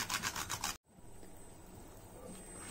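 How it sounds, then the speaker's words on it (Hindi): Whole nutmeg is rasped over a pan of gond halwa in a quick run of rough, rhythmic scraping strokes, close and fairly loud, then cut off abruptly into a quiet, steady background hiss. "ये जायफल लिया है इसे थोड़ा सा घिस के डाल देंगे"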